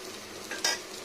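Rui fish frying in oil in a pan: a soft, close sizzle with a short burst of louder crackle and a light stir near the end, no talking.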